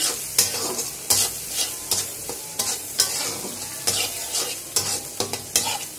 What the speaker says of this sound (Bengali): বাদামি করে ভেজে নিতে হবে। আমি এবার রান্না করি।